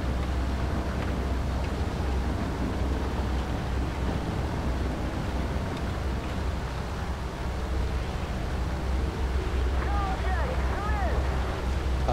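A propeller warplane's engine roars at full power during a simulator takeoff in the War Thunder game, a steady, dense drone that holds without a break throughout.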